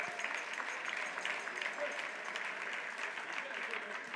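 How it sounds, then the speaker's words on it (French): Steady applause from a gala dinner audience in a reception hall, many hands clapping together loudly and evenly with a few voices mixed in. "applaudissez quand même les équipes du pavillon Vendôme"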